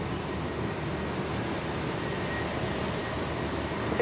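Jetstar airliner taking off from runway 01 right at Brisbane International Airport, a steady broad roar of engine noise heard from a distance, continuous and even throughout.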